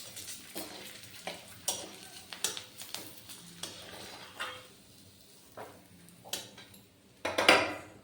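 Cashew and ginger pieces frying in hot oil in a pan, soft sizzling under repeated scraping stirs and clinks of a utensil against the pan, getting louder near the end.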